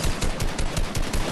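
Rapid bursts of gunfire from a video game, loud and close, firing in quick repeated volleys through the whole moment with no talk over it.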